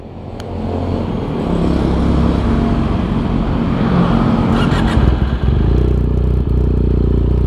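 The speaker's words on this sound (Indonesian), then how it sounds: "Nah untuk suara knalpotnya seperti ini. Ini kebetulan udah diganti pakai double baler ya." A Benelli TNT 249 S 250cc naked motorcycle fitted with an aftermarket double-barrel exhaust runs up close, its deep engine note rumbling steadily and rising in a few revs throughout.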